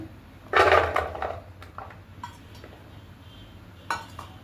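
A clattering splash of potatoes dropped into a metal pot for veg biryani, followed by a few lighter knocks and scrapes, with another clink near the end.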